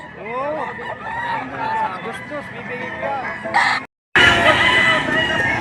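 Chickens clucking and crowing fill a busy poultry market at Padre Garcia, Batangas, with repeated rooster crows and steady clucking close by, while people haggle over prices throughout.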